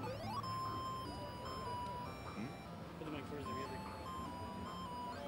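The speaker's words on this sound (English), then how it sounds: "here's the fantastic tunes from this Zippy the Porcupine" Chiptune music plays from the Atari 2600 homebrew game Zippy the Porcupine, a bleepy square-wave melody running steadily throughout over a continuous noisy background.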